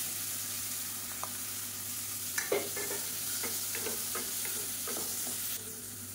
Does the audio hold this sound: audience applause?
no